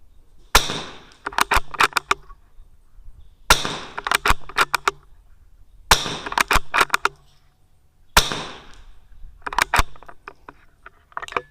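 Sharp cracks of .22 rimfire rifle fire at a target during a match, each a single close shot followed by a rapid scatter of ringing clicks, repeated four times at steady intervals, with no talking.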